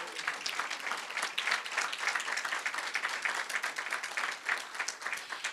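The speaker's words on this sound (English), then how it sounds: "Can I have a round of applause for Don Parr?" Steady, fairly distant applause from a lecture audience at a university legacy lecture, welcoming former provost and president Don Parr, many hands clapping evenly throughout.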